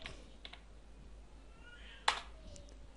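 Keystrokes on a computer keyboard, sparse soft clicks with one sharper, louder key press standing out near the middle, in a quiet room.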